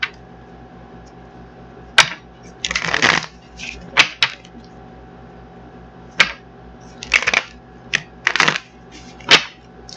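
Tarot cards being shuffled and pulled from a deck, heard as a series of short, crisp riffling bursts and snaps spread across the clip, close and fairly quiet, with no talking.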